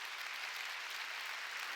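A church congregation at a Sunday worship service applauding, a steady faint wash of clapping from many hands, distant and continuous with no talk over it.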